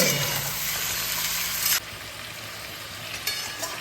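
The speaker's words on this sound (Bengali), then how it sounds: "এই চিকেনগুলো এই পেঁয়াজের মধ্যে দিয়ে ভেজে নেব" Seven hundred fifty grams of chicken fry with onions in a pan: a loud, hissing sizzle for about two seconds, then drops to a quieter, steady crackle with light stirring.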